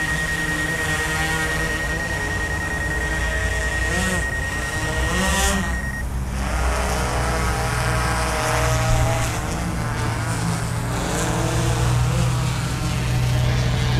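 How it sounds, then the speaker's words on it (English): DJI Inspire 2 drone flying over a graffiti park in Houston, Texas, a steady close rotor whine and hum running throughout, with a brief high tone early on. "Let me bring the drone"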